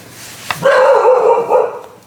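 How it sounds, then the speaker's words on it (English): A small dog gives one close, high-pitched bark that is drawn out into a yelp. "barking"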